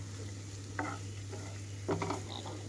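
Coriander being stirred into a pan of egg keema curry: two brief scraping strokes over a faint, steady sizzle, quiet and close, with a low hum underneath and no voices.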